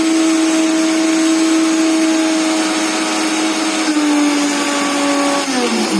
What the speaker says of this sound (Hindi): एंड देन हम इसको मिक्सी में चलाएंगे